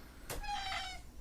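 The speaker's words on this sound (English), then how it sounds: "for those listening, that is our new Tavern Cat Noodles" A cat named Noodles, the new tavern cat, gives a single short meow close to the microphone, a quick rising cry that trails off over about a second with no voices around it.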